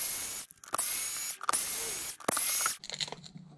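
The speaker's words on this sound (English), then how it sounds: "get your hex driver and just remove these 4 screws at the back." Hex driver backing out four screws from the rear of a sand-dusted RC car, with short bursts of ratcheting, gritty turning separated by brief pauses, close up and with no talk.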